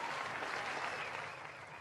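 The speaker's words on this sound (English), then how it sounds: "That's a very long applause." Long, sustained audience applause at a band interview, an even wash of many hands clapping at moderate distance, steady with no break and no talk.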